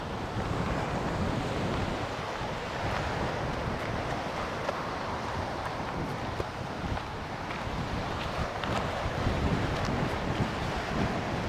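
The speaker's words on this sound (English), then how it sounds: "It is very windy here now." Strong wind roars steadily against the microphone on the rocky seashore at Keya, Itoshima, Japan, with surf rumbling underneath and no talking.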